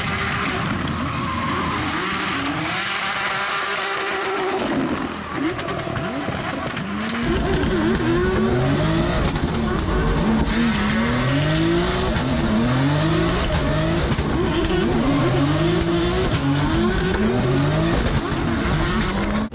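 A drift car slides and skids loudly through repeated tire squeals and engine revving at a round of the French drift championship in Vesoul, with sustained rising and falling screeches throughout.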